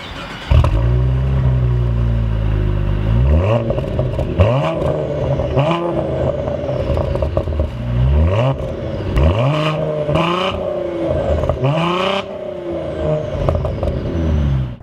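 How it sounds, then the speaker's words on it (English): A Cadillac ATS-V engine revs repeatedly, rising and falling roars in quick blips and longer pulls, loud and close with no talking. "This isn't a bad sounding engine by any means."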